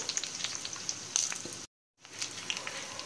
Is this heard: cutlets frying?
yes